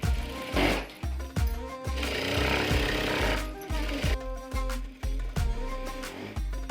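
An electric sewing machine runs in steady rhythmic bursts, stitching a seam joint on a one-piece umbrella dress, with the needle chattering through fabric in repeated short runs and brief pauses, close and fairly loud.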